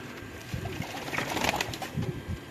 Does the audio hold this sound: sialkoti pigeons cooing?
yes